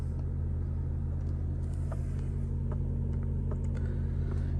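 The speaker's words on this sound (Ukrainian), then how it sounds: "автомобіль заводиться гарно, працює рівно" The engine of a 2010 Audi A6 idles steadily and evenly with a low hum, with a few faint clicks on top, and no voices.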